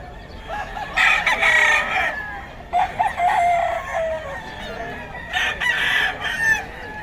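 Boston White fighting roosters crowing at a gamefowl sale in Bocaue, several long crows following one another, loud and close, with someone talking faintly in between.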